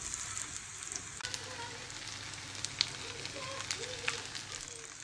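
Steady close sizzling of chicken frying in a pan, with scattered crackles and pops throughout and no voices.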